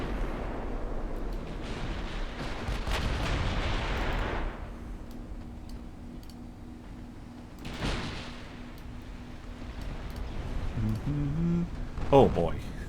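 Naval gunfire and ship explosions in a video game: a heavy rumbling blast, then a second boom a few seconds later, with sharper impacts near the end and a low engine drone beneath.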